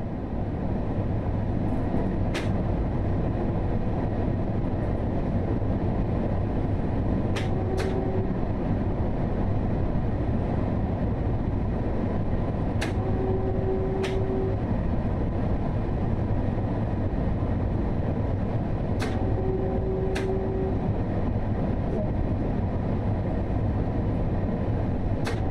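A train runs on the Harlem Line out of Grand Central Terminal in Train Sim World 2, a steady close rumble throughout with repeated short tonal chimes and clicks at intervals above it.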